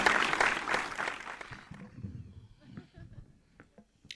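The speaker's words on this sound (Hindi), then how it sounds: "एक बार जरा जोरदार तालियां बजाकर आप दीपक पारिक की अगवानी करें।" An audience at a Hindi comedy poetry show applauds to welcome the poet, a burst of clapping that fades over about two seconds, followed by quiet room noise with a few scattered claps.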